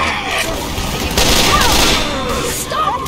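Bursts of gunfire in a team-based shooter game sound effect, dense crackling volleys running throughout at steady loudness, with background game noise layered underneath.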